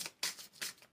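Tarot cards are drawn and handled in a few soft, crisp papery swishes and slides, close and quiet, with no talk.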